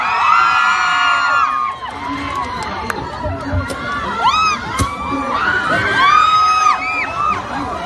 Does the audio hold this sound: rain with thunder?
no